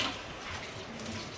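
Water from a kitchen tap runs in a soft, steady stream while shrimp and vegetables are washed, faint and brief with no talking.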